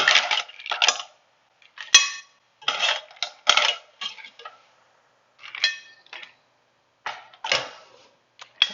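Cooked mussels in pesto sauce spooned onto a plate, their shells clinking and rattling against the dish in short, close, separate bursts with quiet gaps between them.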